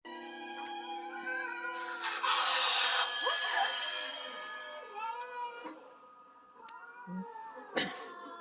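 Several house cats meow and caterwaul close by, their calls overlapping in drawn-out, wavering cries with a few sharper yowls near the end.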